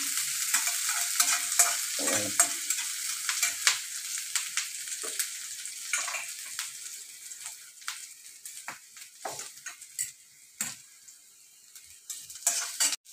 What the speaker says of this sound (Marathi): हे बघा, मसाला आपला छान भाज्या ते असं परतून झालेलं आहे.